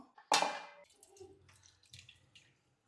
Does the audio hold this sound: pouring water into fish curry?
yes